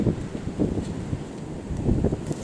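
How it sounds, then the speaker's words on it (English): Gale-force wind buffeting a microphone outdoors in Cambridge, UK, a steady low roaring rumble with gusty swells throughout and no voices. "I'm sure you can hear the wind."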